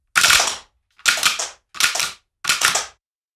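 A 3D-printed rubber band SMG fires four rapid bursts, each a loud clattering rattle lasting about half a second, separated by short silent gaps.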